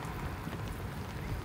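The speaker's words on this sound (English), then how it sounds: "it was raining a ton" Heavy rain falls at night in Washington, DC, near Georgetown, a steady, dense patter and hiss that holds an even level throughout with no voices.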